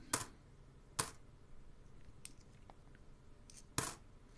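Australian five-cent coins are handled and dropped one at a time. Three crisp metallic clinks land at spaced intervals, with faint handling noises between them in a quiet room.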